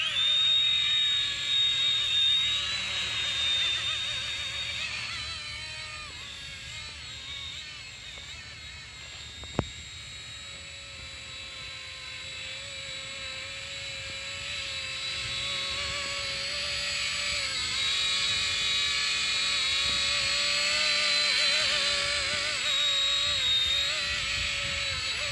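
A Rage Hero-Copter military-style RC helicopter spools up and lifts off by hand throttle, its high whining rotor and motor hum steady and close for about twenty-five seconds, swelling and easing as it hovers, with one sharp click partway through.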